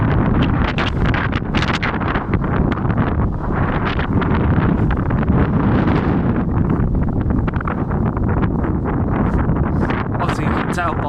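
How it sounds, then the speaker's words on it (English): Strong, constant wind buffets the microphone outdoors amid debris and fallen trees, a loud, continuous roar with gusting rustle and no break across the whole stretch, with possible faint speech underneath. "It's like a constant wind here."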